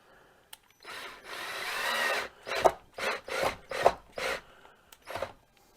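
A power drill bores a hole for a stained glass window mounting clip, one long grinding run followed by a series of short bursts at close range, with no talk.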